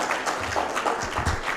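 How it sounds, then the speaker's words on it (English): An audience claps at an outdoor agroecology and indigenous food gathering in Uganda, a brief scattered round of applause heard at moderate distance. "Let's clap for that."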